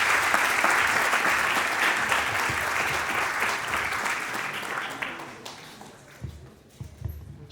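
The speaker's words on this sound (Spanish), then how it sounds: "muchas gracias por este pequeño aplauso" An auditorium audience at a professional training conference gives a dense burst of clapping that thins and tapers away after about five seconds, leaving a few scattered claps and room noise.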